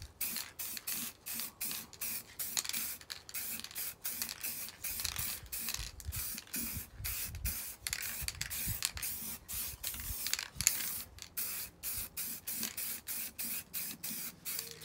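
Aerosol spray paint dusting over van wheels, with a steady hiss broken by frequent brief stops and restarts, faint and close, with no voices.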